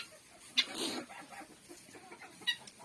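Bantam mini Wyandotte chickens cluck quietly nearby, a few short sharp calls standing out against soft background noise.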